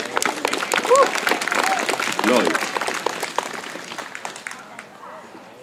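Audience applause at an outdoor ceremony in Heinola, a dense burst of clapping that swells, peaks about midway and thins out toward the end, with voices and brief talk mixed in.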